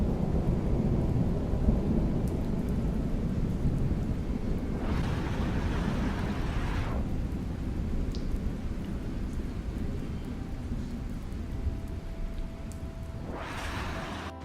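Steady heavy rain hisses under long rolling rumbles of thunder at night in Greece, with a couple of louder surges of downpour; no voices.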